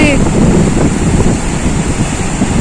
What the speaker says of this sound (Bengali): আওয়াজটা দেখো সমুদ্রের।